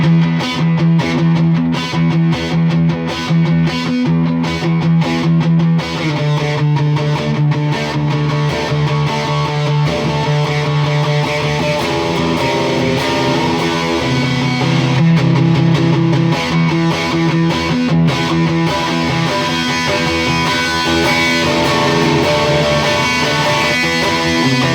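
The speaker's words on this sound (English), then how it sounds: "Now I got the gain cranked up." An electric guitar played through a Fender Frontman 15G practice amp with the gain cranked up and the volume on 3 gives a continuous, dense, distorted tone of sustained notes and chords throughout, with no talking.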